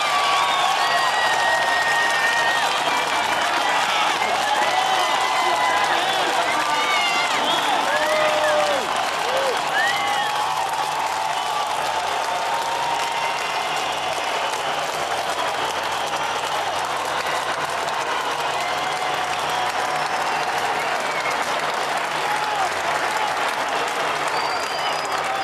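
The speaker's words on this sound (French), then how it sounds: "On termine avec un applaudissement." Sustained applause from a large audience closing a session, loud and continuous throughout, with crowd noise and scattered voices mixed in.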